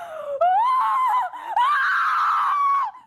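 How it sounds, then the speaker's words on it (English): A single blood-curdling human scream, loud and close, held for about three seconds with a brief dip and break midway before it surges again and cuts off. "blood-curdling scream"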